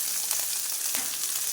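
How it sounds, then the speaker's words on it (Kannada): Mustard seeds sizzle in hot oil as a tempering is made for chitranna, a steady, close, crackling fry that holds the same level throughout, with no talking. "ಎಣ್ಣೆ ಬಿಸಿ ಆದಮೇಲೆ ಸಾಸಿವೆ"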